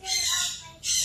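A blue and gold macaw parrot lets out a loud, harsh squawk close by, followed after a brief pause by a second raspy burst.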